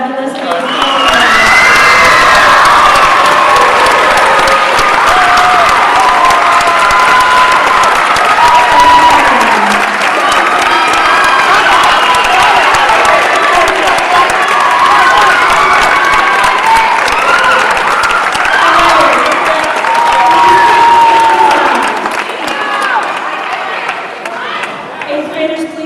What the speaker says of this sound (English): If we could get one final round of applause for these fabulous baseball